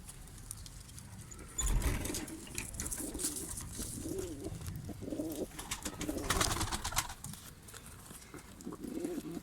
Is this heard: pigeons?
yes